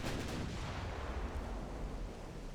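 Naval guns fire in a warship battle in the Ultimate Admiral: Dreadnoughts video game, heard as a dense, continuous booming roar that fills the clip with no clearly separate shots.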